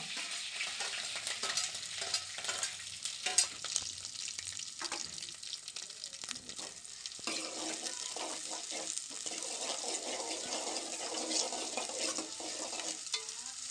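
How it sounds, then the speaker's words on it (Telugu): Chopped green chillies and onion sizzle and are stirred in hot oil in a pan for gongura chicken curry, with a steady crackling fry broken by repeated scraping strokes of the spoon, close up and without talk. "ముందుగా అయితే మనం పచ్చిమిర్చి, ఉల్లిగడ్డ వేసుకుందాం."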